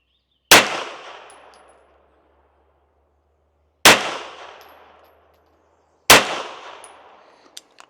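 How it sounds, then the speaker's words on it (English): Three sharp, loud rifle shots ring out a few seconds apart, each with a long fading tail, followed by two faint metallic pings near the end as rounds strike a steel target at 100 yards. "we're just gonna go straight for the steel at 100. Let's take a few shots."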